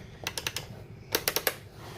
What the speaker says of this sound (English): Nice little clicky sound, so you know the switches are good.